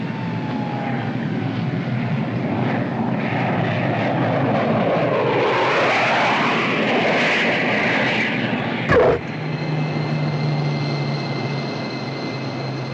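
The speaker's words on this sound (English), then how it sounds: "These jets come aboard pretty hot." A 1950s jet aircraft coming in fast to land on an aircraft carrier, a loud roaring whine that swells, peaks and shifts pitch as it passes, then a sharp thump and a lower steady drone.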